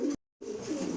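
Pigeons coo softly around a feed box, a low throaty warble close by with a brief silent gap partway through.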